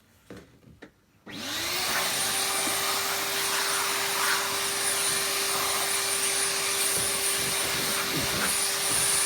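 A vacuum cleaner kicks on after a few quiet handling knocks and then runs steadily and loudly with a constant whine, sucking a bit of dust off an unscrewed item being cleaned.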